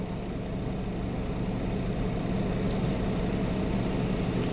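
A 2021 Toyota Corolla SE with a CVT idles at a dead stop, giving a steady, quiet low hum with a faint mechanical murmur and no voices.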